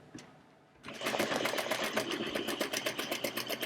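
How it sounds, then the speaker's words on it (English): A sewing machine stitches down bias tape with a quarter-inch seam allowance, starting after a quiet moment and then running in a fast, even needle rhythm, close and moderately loud. "All right, so I'm going to stitch down that."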